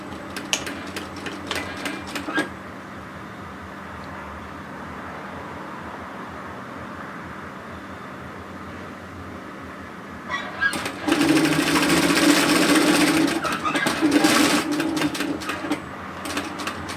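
A sewing machine stitches a straight dress seam in short rapid bursts at first, then runs in a longer loud steady whir after a quiet pause, close up.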